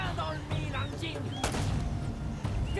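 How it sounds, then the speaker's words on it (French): Gunfire aimed at the player in the action video game Uncharted, a dense stretch of shots and impacts layered with game effects and background noise, heard under someone speaking French. "Qu'est-ce qui me tire dessus?"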